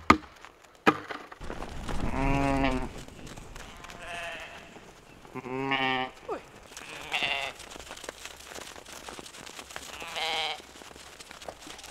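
Sheep bleat on a farm in northern Sweden, several loud wavering calls at intervals near and far, with a sharp knock at the start and soft voices between.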